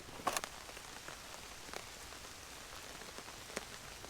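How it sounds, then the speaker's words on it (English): Rain patters on a hammock camp shelter, soft and steady, with scattered louder drips landing close by and no talking. "I'm going to sit here and enjoy the rain for a bit."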